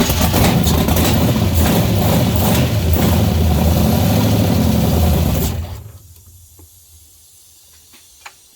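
A 347 stroker V8 in a Ford Bronco II running with a loud, rough, steady idle for several seconds, then shut off abruptly, leaving near silence broken by a couple of faint clicks.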